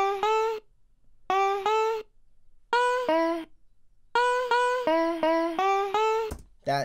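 Dry, reverb-free vocal chops: a single sung syllable sample repeated in short bursts, pairs and runs of clipped notes separated by silences, close and clear with no talking.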